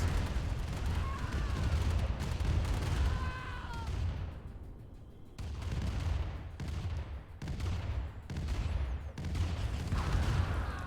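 Flame tanks and medium tanks trade fire in a Command & Conquer match on the Quarry map: loud, continuous battle noise with dense bursts of gunfire and booms, briefly thinning before surging again.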